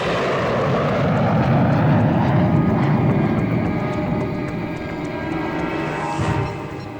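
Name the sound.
airplane flying, scene from a dubbed action movie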